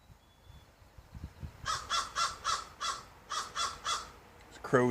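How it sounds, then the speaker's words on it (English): A crow caws repeatedly near its nest outdoors, a series of about eight loud, evenly paced harsh calls in two bursts, fairly close, with a sharper sound at the very end. "There's a crow's nest right there."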